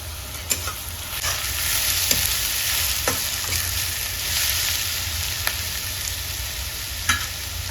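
Chillies and chopped garlic sizzle steadily in a hot pan for a Manchurian dish, with a constant bright hiss broken by occasional sharp scrapes and taps of a stirring spoon.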